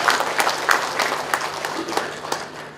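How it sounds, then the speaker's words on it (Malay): Applause at a university award ceremony for excellence and innovation, a steady patter of many hands clapping throughout from a seated audience. "Satu tepukan kepada semua tuan-tuan dan puan-puan."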